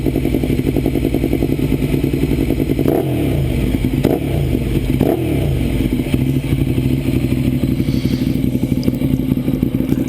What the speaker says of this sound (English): Let's get some RPMs going.